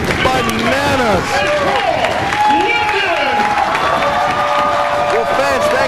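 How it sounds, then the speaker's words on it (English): A pro wrestling crowd roars and cheers wildly after a match finish, with loud sustained shouting, whistles and clapping and a commentator's voice over the din. "This crowd is going berserk. They are going bananas."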